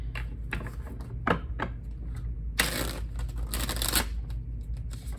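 Tarot cards shuffled by hand during a Sagittarius love reading, with soft riffling bursts and two louder, longer shuffles near the middle over a steady low background hum.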